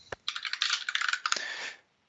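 Rapid keystrokes on a computer keyboard at a desk during an online developer call, a sharp isolated click first, then a dense run of close key taps that stops abruptly, without speech.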